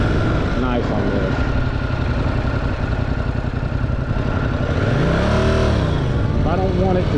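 A 2026 Yamaha R7 motorcycle engine-brakes after the throttle is closed, its revs sliding down and swelling again beneath a rider's talking and constant wind rush.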